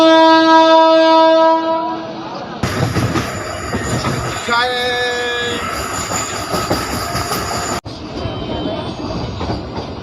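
A push-pull MEMU train on the Warangal to Secunderabad line sounds a long horn blast, then wheels squeal and carriages rattle while running at speed. The roar is loud and continuous, with a brief sharp cutoff near the end.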